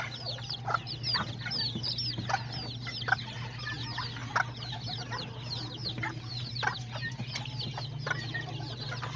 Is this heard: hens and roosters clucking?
yes